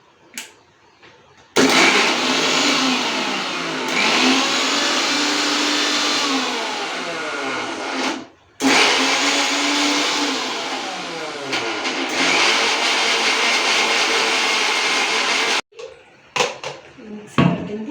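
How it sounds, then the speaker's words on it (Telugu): A kitchen mixer grinder whirs loudly for two long runs separated by a brief pause as it grinds ingredients for a fish curry gravy, then stops, followed by a few clattering knocks of the jar. "ఈ ముక్కలన్నిటిని మిక్సీ పడతాం."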